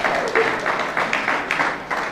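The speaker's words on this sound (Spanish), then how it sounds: "No aplauda eso, hombre," Congregation clapping during a church sermon, a short burst of rhythmic, fairly loud claps in even pulses, heard on its own without speech.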